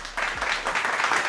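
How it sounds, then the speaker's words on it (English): A short burst of applause added to a travel and expat discussion, a steady patter of clapping at moderate level with no talking. "editors, give him a round of applause."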